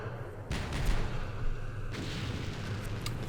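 4.2-inch mortars fire in the Campaign Series Vietnam war game, heard as dull, muffled booms over a constant rumbling battle bed, with one heavy thump followed by a second about a second and a half later.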